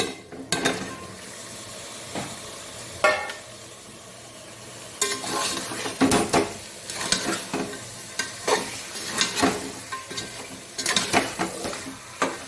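Washed, drained mutton is tipped into cooked-down spice masala and fried, with a hissing sizzle under repeated scraping and clattering stirs of a utensil against the pot in irregular bursts.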